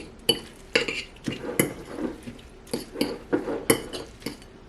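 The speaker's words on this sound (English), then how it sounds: "And let's mix this all together." A spoon stirs a salmon patty mixture with oats in a bowl, giving a series of irregular clinks and scrapes against the dish, close and fairly clear, with no talking.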